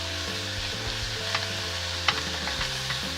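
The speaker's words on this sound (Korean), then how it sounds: "볶을 때 같이 아까쯤 만들어 두었던 불고기 소스를 같이 넣어서 볶아줄게요." Bulgogi sizzles steadily as it is stir-fried in a hot pan with bulgogi sauce, a continuous loud frying hiss with occasional scraping and stirring clicks.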